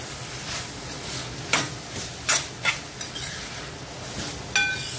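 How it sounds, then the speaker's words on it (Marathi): Spices sautéed in oil for chilli paneer, a steady low sizzle broken by several sharp spoon-on-pan clinks and scraping stirs, close up with no talking. "छान तेलावर परतून घेऊया मसाले."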